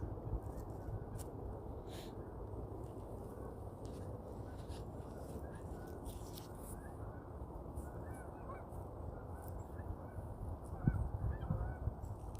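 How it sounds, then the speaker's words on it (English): Geese honk repeatedly while flying over an outdoor area, the calls fairly faint and distant against a steady low background hum, with a slightly louder burst near the end. "Now you can hear some geese flying around."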